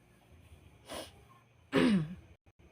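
Two short coughs close by in a quiet room, the second louder and more throaty than the first.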